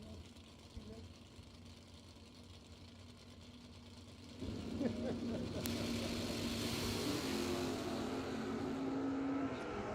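Drag racing cars in a Ford versus Mopar bracket race, with low background noise giving way halfway through to a loud, sustained engine roar whose pitch climbs as the cars accelerate, and voices faintly mixed in.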